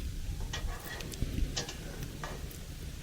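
A spoon stirs marinated chicken rezala with saffron in a pan, giving scattered ticking scrapes and soft knocks over a low, even frying sizzle, close and moderately loud.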